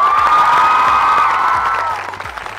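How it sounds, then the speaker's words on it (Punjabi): A college audience at a women's college show applauds loudly, a dense burst of clapping with some cheering that holds steady and then thins out toward the end. "ਸੋ ਜ਼ੋਰਦਾਰ ਤਾੜੀਆਂ ਇੱਕ ਵਾਰ ਆਪਣੇ ਲਈ।"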